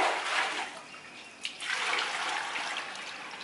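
Water splashing and trickling as it is drained out of a fish pond, a soft, steady pour with one brief splash near the middle.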